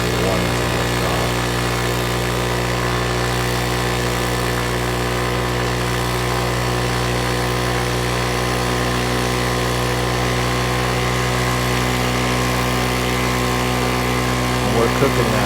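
A 125cc scooter with a centrifugal clutch straining to tow a truck, its engine holding a steady, loud, droning high-revving note throughout with little change in pitch.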